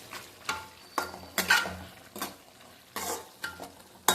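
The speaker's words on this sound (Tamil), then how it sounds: "நல்லா கிளறிக்கிட்டாச்சு" A spoon stirs a meat curry in a cooking pot, making rhythmic scrapes and clinks against the metal about every half second over a soft sizzle, close by with no talking.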